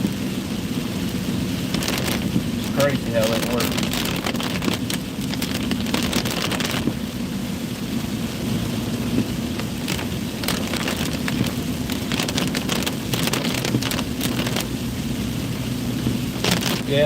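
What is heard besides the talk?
rain falling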